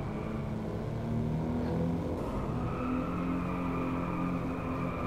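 Jaguar XJ220 with a 3.5-litre 24-valve twin-turbo V6, heard from inside the car in the Drive Club video game, holds a steady, loud engine drone that rises slightly in pitch partway through.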